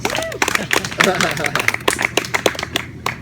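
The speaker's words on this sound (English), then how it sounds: "Give her a round of applause." A crowd claps steadily and briskly for a few seconds, a dense patter of many hands at moderate volume, with some voices mixed in.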